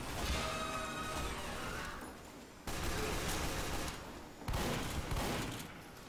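Sentry gun in a team-based shooter game firing rapid, dense bursts of gunfire amid crashing impacts, loud and near, cutting off briefly twice before resuming.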